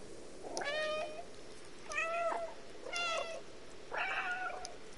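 A cat character in a video game meows four times at an even pace, each call clear and moderately loud over a soft background hiss.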